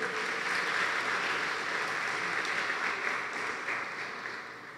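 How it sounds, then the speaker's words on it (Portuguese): A congregation at a family church service applauds, a dense, sustained wash of clapping that stays loud and fairly even, tapering slightly toward the end. "Uma salva de palmas para o nosso Jesus."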